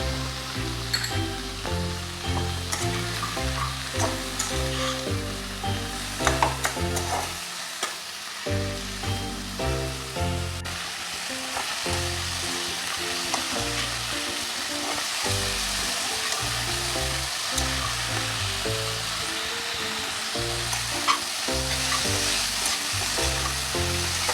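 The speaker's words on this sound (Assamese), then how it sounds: "জলকীয়া দিলোঁ, আদা নহৰু জলকীয়াৰ পেষ্টখিনি দিলোঁ।" Ginger, garlic and chili paste fries in a pan with a steady, close sizzle and spatter throughout, along with occasional stirring, while music plays underneath.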